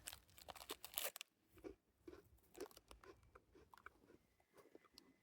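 Crisp crunching bites into a crumbly chocolate chip cookie, several crunches in a row, close and fairly quiet, with no talking.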